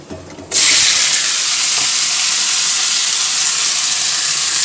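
Loud, steady sizzling of potatoes frying in hot oil in a wok, starting abruptly after a brief quiet moment and continuing without a break.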